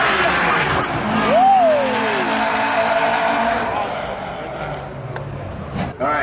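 A Toyota MR2 AW11, the mid-engine car fitted with a 2GR turbo engine swap, drives past loudly with a rising and falling engine note, and people talk nearby.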